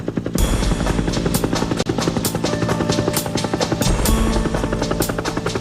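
A Bell UH helicopter flies close by, its loud rotor beating in a fast, steady chop over a deep turbine drone throughout.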